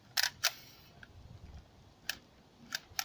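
CYMA M4A1 S-System airsoft rifle bolt being pulled back, giving a few sharp, close plastic clicks spaced across a quiet background, with two quick clicks near the start and two more later.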